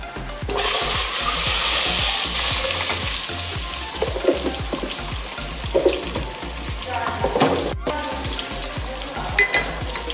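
An egg fries in hot oil with turmeric for a dried-prawn egg curry, a loud steady sizzle crackling throughout with occasional scraping stirs.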